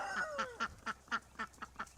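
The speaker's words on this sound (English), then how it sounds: "the geese were super excited to get over here in the green grass and the mud." Geese on green grass and mud give a quick run of about eight short, evenly spaced honks, fairly close and moderately loud, with no talk.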